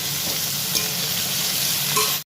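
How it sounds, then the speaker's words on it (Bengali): Tomato dropped into a hot frying pan during home cooking, with a steady loud sizzle and stirring scrapes running continuously and close up, ending abruptly. "এই মুহূর্তে দিয়ে দেবো এই টমেটোটা"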